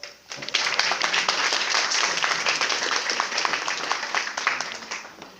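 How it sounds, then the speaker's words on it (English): Graduates at a graduation ceremony give themselves a round of applause. The dense, steady clapping starts abruptly after a brief lull and continues throughout. "give yourselves a round of applause"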